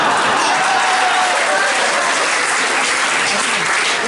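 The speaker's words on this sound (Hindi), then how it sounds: "पीछे वाले कुछ लोग तालियां नहीं बजा रहे" Steady, dense applause from a live audience, many hands clapping continuously and loudly throughout, with no voices standing out.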